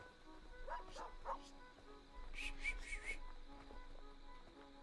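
Dog in the video game Super Brothers: Sword and Sworcery, a few short yips and barks in two brief bursts over quiet background music, faint and small-sounding.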